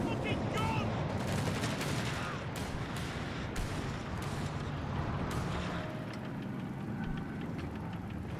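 An aircraft's strafing run hammers a mortar crew in Company of Heroes 3 with rapid gunfire and scattered blasts, dense and loud battle noise with faint voices mixed in.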